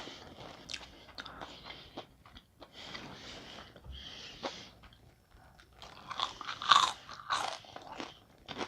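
Crispy fried shrimp tempura crunched and chewed close to the mic, a run of sharp crackling bites and mouth sounds with no talking, growing louder near the end.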